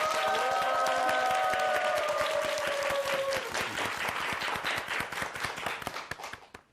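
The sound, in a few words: audience applause for a lecture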